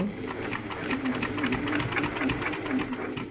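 A sewing machine runs steadily while stitching a messenger bag, a close, rapid mechanical chatter of repeated needle strokes with a low motor hum underneath.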